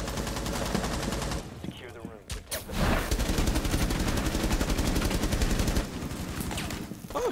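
Rapid automatic gunfire in a first-person shooter game, bursts of dense repeated shots with a brief gap before firing resumes and continues steadily, players talking over it.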